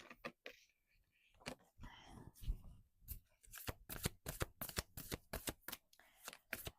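Oracle cards being shuffled nearby, a series of crisp papery riffles and slaps, sparse at first and then quick and rhythmic, heard alone.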